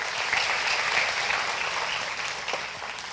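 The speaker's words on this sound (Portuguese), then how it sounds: "Aplaude ao Senhor." A church congregation applauds in praise during a service, a dense, sustained roar of many hands clapping at once, steady and fairly loud throughout.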